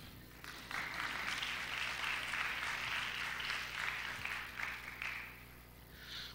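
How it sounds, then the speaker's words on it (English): A church congregation at a Bible exposition session claps in a moderate, sustained round of applause heard at some distance over a steady low hum, tapering off near the end. "if you want to clap, clap."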